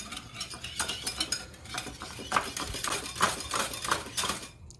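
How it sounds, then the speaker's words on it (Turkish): A utensil scrapes and clinks against a bowl in quick, uneven strokes as a French toast mixture is stirred close by, with no talking. "Tekrar karıştıralım."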